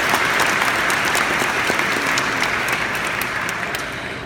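A crowd of social workers applauds at a gathering at the state capitol, a dense, steady wash of clapping that fades slightly toward the end.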